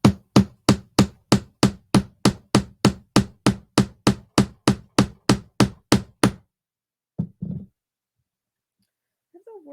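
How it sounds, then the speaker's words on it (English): Hammer striking a grommet hole punch set into fabric, about twenty sharp, evenly spaced blows in quick succession, then silence and one or two final strikes, close and loud. "I'm going to hit it with this hammer and hope that it actually punches a hole through this fabric."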